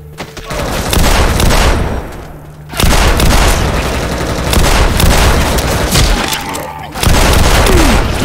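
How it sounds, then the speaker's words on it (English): Gunfire and booming shots in a Counter-Strike match on the Office map, dense bursts that keep recurring over a busy game background. "Let's not all start shooting each other."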